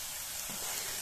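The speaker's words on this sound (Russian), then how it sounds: "Он у меня уже обжаривается в растительном масле." Sliced eggplant frying in vegetable oil in a pan, giving a soft, steady sizzle with a faint crackle, heard alone and close.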